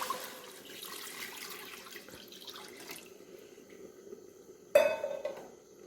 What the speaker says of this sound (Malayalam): ഇതിലേക്ക് വെള്ളം ഒഴിച്ച് കൊടുക്കുക.